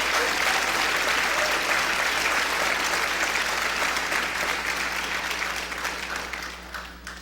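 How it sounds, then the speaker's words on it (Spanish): A congregation at a church graduation service gives a strong round of applause, dense sustained clapping from a large crowd filling the room and slowly fading toward the end. "Desen un fuerte aplauso."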